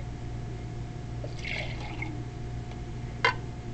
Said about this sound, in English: very carefully pour it into my cylinder.